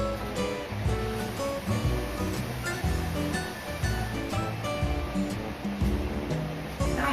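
Water pours into a roasting dish holding herb-rubbed pork tenderloin, a steady splashing wash with bubbly, uneven texture, fairly close and continuous throughout, with no talking over it.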